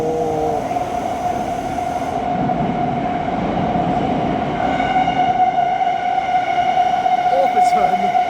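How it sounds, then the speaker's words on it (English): Thameslink train arriving at a London St Pancras platform, with a steady rumble and a sustained tonal whine from the rails. High brake squeals come in near the end, and a voice talks over the train throughout. "Meanwhile, arriving into platform A is going to be a Thameslink service"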